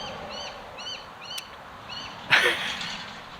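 A bird gives repeated short chirping calls in the background at a steady moderate level, followed by a louder, sharper burst of bird sound that stands out near the middle.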